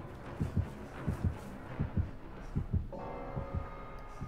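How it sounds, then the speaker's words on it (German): Dead by Daylight's terror-radius heartbeat, with the Trapper as killer, thumps in a steady paired rhythm. Low and muffled, it sits under a faint hum, and a tonal drone joins partway through. "Und ich habe gleich mal Herzschlag instant."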